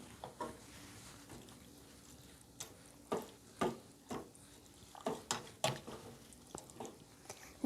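Homemade ramen ingredients being mixed in a bowl, a series of scattered clinks, taps and scraping strokes of varying loudness, close and alone without talk.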